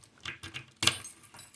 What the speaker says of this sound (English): I took my keys out.